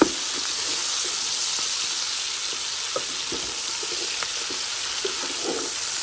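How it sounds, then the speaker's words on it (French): Onions frying in a pot for chicken and mushroom curry, a dense steady hiss of sizzling oil close up with a few soft knocks of stirring. "Les oignons sont en train de bien travailler dans la marmite."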